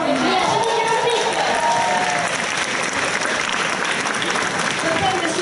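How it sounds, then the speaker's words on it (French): Loud, dense applause from a large audience at an engineering graduation ceremony, with crowd voices and some cheering mixed into the continuous clapping throughout. "Veuillez applaudir la meilleure filière de tous les temps, une filière génie."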